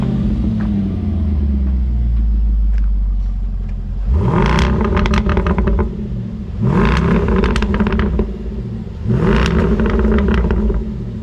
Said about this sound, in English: This is our Defender 19110 V8 Edition 2 exhaust.